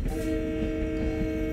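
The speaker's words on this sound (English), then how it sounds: "Honk at the level crossing." A Long Island Rail Road train sounds its horn at a level crossing in the Train Sim World video game, a sustained steady multi-tone blast held for the whole moment over a low engine rumble.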